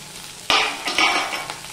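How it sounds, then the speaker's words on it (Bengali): Washed, cut okra frying in a pan, with a sudden burst of hissing sizzle and scraping stir strokes that rise and fade over a couple of seconds, close and fairly loud. "এবার প্রথমে আমি ভেন্ডিগুলো ভেজে নেব।"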